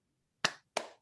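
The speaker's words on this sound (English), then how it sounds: "How about a round of applause like Lex merits?" Two sharp, quiet hand claps about a third of a second apart, given in response to a call for applause for a speaker at a talk; the rest is near silence.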